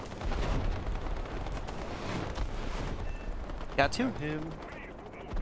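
Game gunfire in War Thunder at high-tier play, a dense rattle of shots and blasts filling the background with a sharp burst near the end, while a player talks over it.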